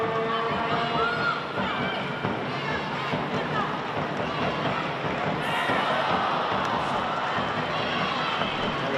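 Dense crowd noise at a women's football grand final between Brisbane City and Lions FC, a steady roar of spectators reacting throughout, loud and continuous with a brief surge partway through.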